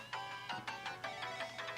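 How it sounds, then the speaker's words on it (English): A mobile phone ringtone in Steins;Gate 0 plays as a quick repeating electronic melody, a series of bright pulsed tones about every fifth of a second, fairly faint and heard alone. "The ringing that suddenly interrupted our conversation was coming from Daru's phone."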